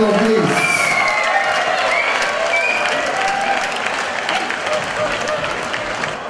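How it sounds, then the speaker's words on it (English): Crowd applause and cheering fill the arena after an MMA fight between Tharoth Sam and Surarak Kamla, a dense, loud wash of clapping that holds steady and eases slightly toward the end, with a voice briefly audible over it. "Hey guys, a round of applause."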